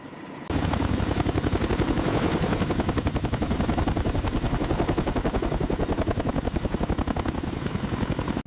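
A close helicopter preparing to lift off on Tinian, with steady, rapid rotor thumping and a loud engine drone, continuous throughout with no voices.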